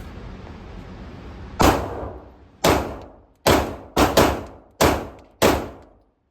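Seven sharp shots from a Ruger RXM handgun firing assorted hollow point rounds, loud and close, spaced unevenly over a few seconds with brief ringing decay after each report.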